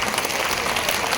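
Steady applause from a crowd at a poetry recital on an outdoor stage at a traditional fair, a dense continuous clatter of many hands with no voices over it.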